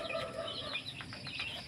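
Hens clucking close by in a brief, busy burst of short, overlapping calls.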